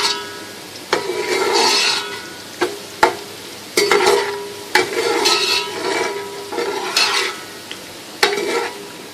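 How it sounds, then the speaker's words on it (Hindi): Sliced onions frying in a hot pan for a pasanday dish, a steady sizzle broken by repeated scraping stirs of a spoon against the metal, close and loud. "ये प्याज फ्राई हो रही है।"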